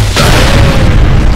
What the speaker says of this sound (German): Dynamit. So, das kannst du von Weitem drauf schieben und dann macht es bumm.